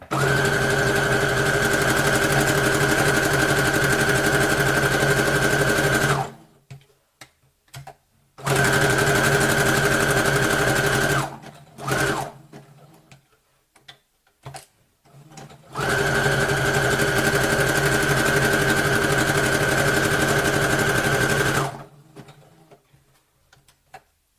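A sewing machine runs in three long, loud bursts of steady, fast whirring stitching, with short quiet pauses and faint handling noises in between.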